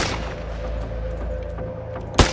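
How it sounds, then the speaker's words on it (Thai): Gunfire in a zombie survival video game, a steady low rumble of shots with one sharp, loud blast near the end. "มีคนใช้ปืน มันเล็งเรามันเล็งเรา"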